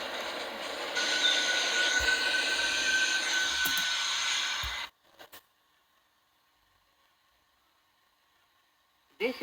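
An R179 A express subway train in a New York train simulator game runs with a steady rumbling roar and high squealing wheel tones, then cuts abruptly to near silence, with a brief thump at the end.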